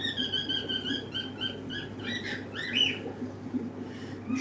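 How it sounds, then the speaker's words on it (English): A lively bird calls in repeated chirps and squawks from a fish room, moderately loud over a steady background hum of aquarium equipment. "Can you hear that bird?"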